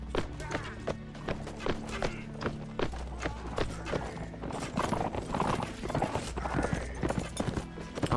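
Cavalry horses gallop into battle in the Mount & Blade Warband game with an Imperial Rome mod, a dense clatter of hooves mixed with neighs and combat noise, loud and continuous.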